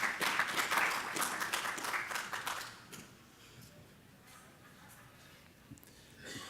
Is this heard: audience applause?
yes